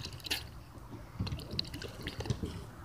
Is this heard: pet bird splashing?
yes